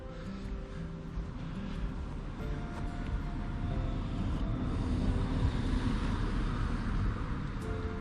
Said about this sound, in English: this one's right off the road, so you can hear the cars behind me.